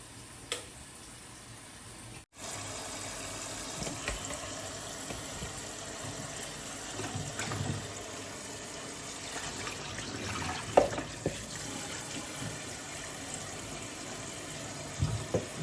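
Wild vegetables being rinsed under cold running tap water, a steady broadband stream of water splashing into a sink with occasional clatters, continuous after a brief pause near the start.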